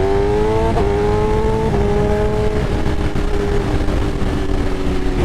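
A 2024 BMW S1000RR motorcycle engine and exhaust roar close and loud, the pitch climbing through gears with brief dips at each shift before settling into a steady high drone.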